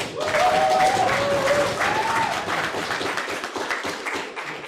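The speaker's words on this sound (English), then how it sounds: "One last round of applause for our quarterfinals." Applause from the audience in a quarterfinal round of a European debating championship fills the room steadily and then slowly thins out, with a faint tonal whistle early on and no clear talk over it.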